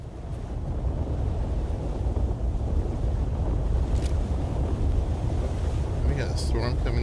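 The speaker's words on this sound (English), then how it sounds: "We got a storm coming in right now." Storm wind roaring in the video game Dune Awakening, a heavy, continuous low rumble of gusting wind at steady loudness with a brief faint clatter near the end.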